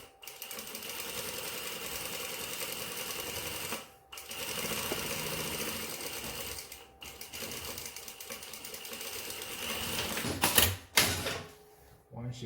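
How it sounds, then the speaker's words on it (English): A sewing machine runs an edge stitch along a pair of pants in steady, fast, continuous bursts, with brief pauses between runs and a short clatter near the end, recorded close up. "we're going to sew an edge stitch first"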